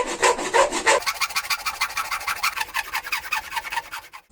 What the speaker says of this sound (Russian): Дальше была небольшая подгоночка при помощи напильника.